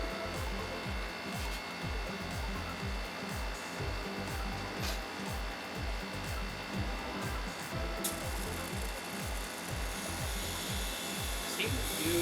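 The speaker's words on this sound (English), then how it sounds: "It's printing." An HP Sprocket Plus photo printer runs a print, giving a rhythmic mechanical whir with regular pulsing strokes that continues steadily, fairly quiet, with occasional voices nearby.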